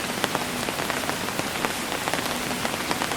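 Rain pattering steadily on a tent in the woods, a dense hiss with scattered louder drops tapping close by, no voices.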